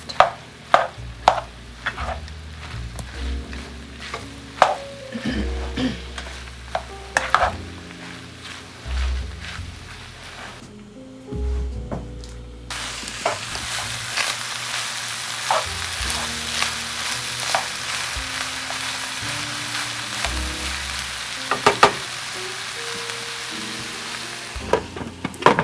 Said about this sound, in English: you're just going to want to let your mushroom and onion get a little bit soft